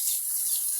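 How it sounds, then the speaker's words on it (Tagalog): Water runs from a tap into a pig pen, a steady bright hiss of flowing water, continuous and fairly loud without pauses or talk. "So yun, nilalagyan namin sila ng tubig."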